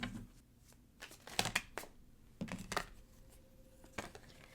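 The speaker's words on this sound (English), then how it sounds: "listen to the cards shuffling and see what comes out in real time" Tarot cards shuffled by hand in a quiet room, heard as a few separate riffling, slapping bursts with short pauses between them.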